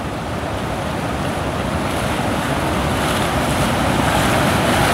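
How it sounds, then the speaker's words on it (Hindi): Fast-flowing rain floodwater rushing in a heavy, continuous roar close by, with wind buffeting the microphone. The sound stays steady and builds slightly, and no one talks over it. "बारिश का जो पानी है ना फ्लो बहुत ज़्यादा तेज़ है"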